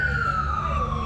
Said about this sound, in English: Another alarm going, another police car or ambulance or fire engine